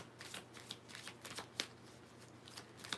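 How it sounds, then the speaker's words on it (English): Tarot cards riffled and shuffled by hand in quick repeated bursts of crisp flutters, close and fairly quiet, with no speech over them. "So let me shuffle 2 more times"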